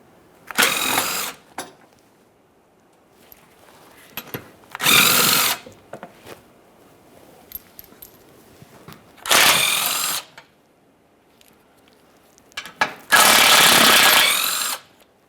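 A power tool spins out 15mm mounting bolts from an underbody shield on a 2015-2020 Cadillac Escalade, four loud whirring bursts of about a second each separated by quiet pauses and faint clicks.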